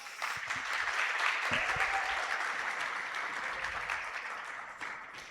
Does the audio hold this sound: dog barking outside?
no